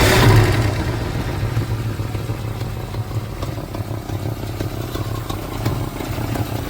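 Fox Body Mustang engine that sat over 15 years, with a slight exhaust leak, running with a steady loud rough clattering idle, close up and alone.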